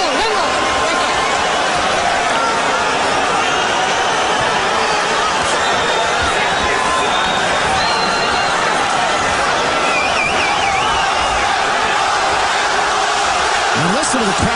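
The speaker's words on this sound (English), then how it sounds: "And listen to the crowd here in Montreal." A boxing crowd in Montreal roars continuously throughout, a dense, loud wash of cheering and shouting with occasional whoops rising above it.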